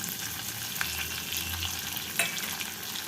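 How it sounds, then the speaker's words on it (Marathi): Sliced onion sautés in hot oil inside a pressure cooker, a steady close sizzle with a couple of brief scraping stirs and a light clink near the middle, no voices. "कांदा छान परतून घ्यायचं आहे उभा कांदा कापलेला आहे मी"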